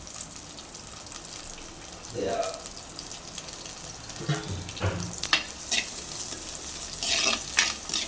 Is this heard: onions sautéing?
yes